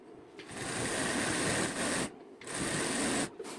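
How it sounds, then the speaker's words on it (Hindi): A sewing machine runs the fitting seam of a salwar in two sustained bursts, with a short pause between them and a stop near the end, close and steady. "तो अब मैं इसकी फिटिंग की सिलाई लगाकर कंप्लीट कर देती हूँ।"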